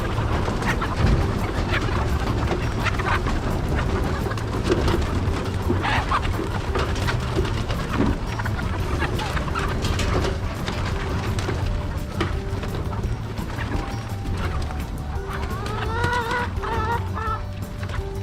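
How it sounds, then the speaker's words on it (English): Chickens pour out of a coop on a farm in Värmland, Sweden, with scattered clucks and squawks over a steady outdoor wash of noise and background voices, continuous across the scene. "And now the chickens are being let out."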